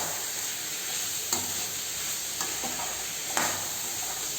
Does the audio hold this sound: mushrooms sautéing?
yes